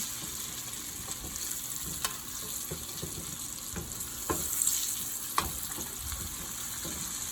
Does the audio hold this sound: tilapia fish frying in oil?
yes